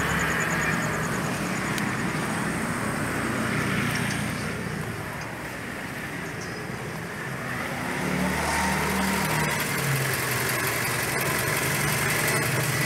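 A 2010 Toyota Camry 2.4L engine fitted with an HHO fuel-saver kit idles steadily nearby, a continuous low rumble with a faint hum that dips slightly midway before settling again; no one speaks.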